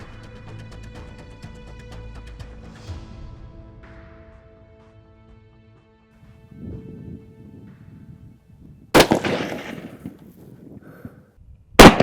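Rifle shots from DRT .308 Win Terminal Shock ammunition, fired from a short barrel outdoors: two sharp, loud cracks about three seconds apart after quieter ringing and rumbling, with no speech.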